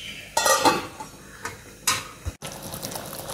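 A utensil scrapes and clinks against a pot as anchovy fish curry is stirred, a few short distinct bursts of metallic scraping with quiet pauses between them, no talking.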